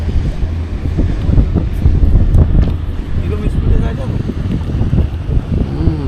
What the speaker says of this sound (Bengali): অনেক বড় বোট, প্রচণ্ড স্পিড।